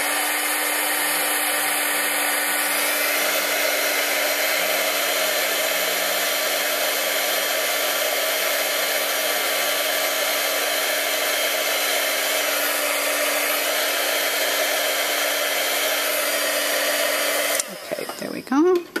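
An embossing heat gun blows hot air over a card to melt embossing powder, a steady loud whine and whoosh that runs unbroken for most of the time before cutting off near the end.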